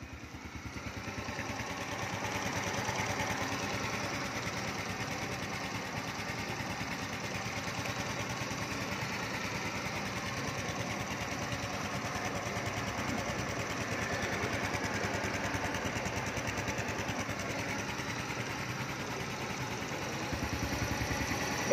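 A Honda Dream motorcycle engine idles steadily and close by, a continuous even mechanical drone that swells slightly after the first few seconds and holds at a constant level, with no talk.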